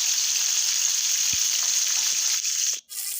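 Chicken sizzles in a pan on a gas stove burner, a steady bright frying hiss with scattered small pops, close and alone, briefly cutting out near the end.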